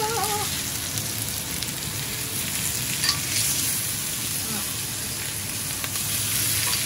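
A ribeye steak sizzles loudly and steadily in a hot pan as it is turned, a dense crackling hiss with a brief flare partway through and no talk.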